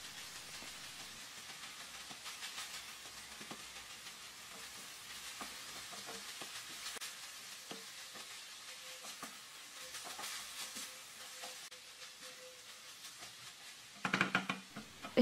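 Kofta and vegetables sizzle steadily in a frying pan while being stirred, a continuous hiss with soft scraping, ending in a brief louder clatter.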